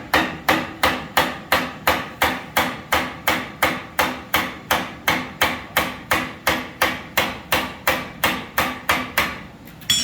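A blacksmith's hammer strikes hot steel on an upset square corner in a fast, even rhythm of about twenty ringing blows, loud and close with no talk.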